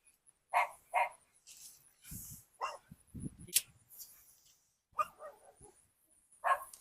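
Dogs bark in short, sharp bursts at a moderate distance, with scattered yips and whimpers between them and a few thumping handling noises in the quiet gaps.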